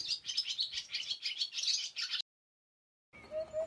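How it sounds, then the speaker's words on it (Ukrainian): Barn swallow twittering in a rapid, continuous chirping song close by, pausing briefly into silence before resuming. "Ластівка сільська літає біля людей під дахами."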